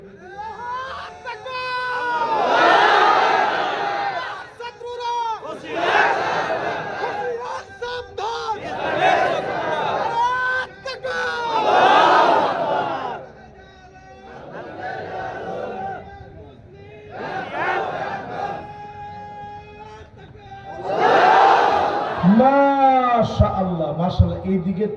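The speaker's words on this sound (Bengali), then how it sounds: "এই দিকের তাকবীরটা সুন্দর হয়েছে, এই দিকের তাকবীরটাও সুন্দর হয়েছে।" A crowd at a religious gathering loudly chants takbir in repeated surges, each swelling and then fading. A lone voice calls between the rounds.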